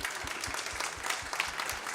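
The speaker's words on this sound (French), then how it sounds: "Applaudissez-vous." Theatre audience at Place des Arts applauding themselves at the close of a comedy show, dense sustained clapping with a faint rhythmic low pulse underneath.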